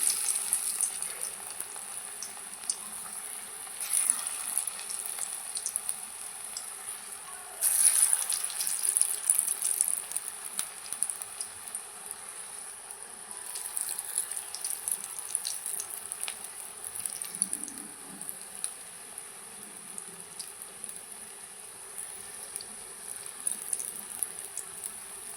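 Lentil fritters (dal bora) frying in hot oil make a steady, faint crackling hiss that persists throughout, with brief louder bursts of bubbling and no voices.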